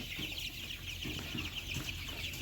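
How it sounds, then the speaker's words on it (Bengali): Soft clucking and chirping from fifteen-day-old Tiger breed chicks beneath a constant loud hiss, the birds faint and continuous. "আপনাদের মাঝে নিয়ে এসেছি অরিজিনাল টাইগার মুরগি"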